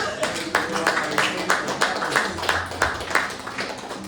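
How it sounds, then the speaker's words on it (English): An audience at a poetry event claps for three crews, a steady patter of many hands at moderate distance lasting several seconds, with some voices mixed in. "Now another round of applause for these three crews."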